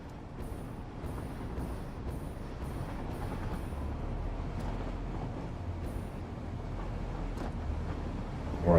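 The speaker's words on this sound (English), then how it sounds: "Ride the train over." A train rolls along its rails in Satisfactory, a steady low rumble with faint rhythmic high clicks near the start, continuous and moderately quiet with no talking.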